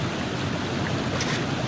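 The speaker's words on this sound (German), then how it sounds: "Das ist ein sehr lauter Bach." Loud rushing forest stream in the video game The Cursed Forest, a steady broadband wash of flowing water with no break, close and alone.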